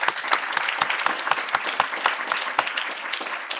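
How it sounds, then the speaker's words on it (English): A crowd at a student final-presentations program claps for a presenting group, with dense, continuous applause and a few louder individual claps standing out near the front. "Can we give them one last round of applause?"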